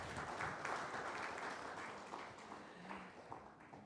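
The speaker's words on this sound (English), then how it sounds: "Let us give her a big round of applause." Convention audience applauding after a speech, a dense even patter of many hands clapping at a moderate distance that slowly fades toward the end.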